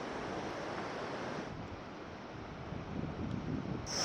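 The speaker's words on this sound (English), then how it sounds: "The river looks amazing" A mountain river on the Kanchenjunga trek rushes past as a steady, broad roar of flowing water, close and continuous with some wind, no voices.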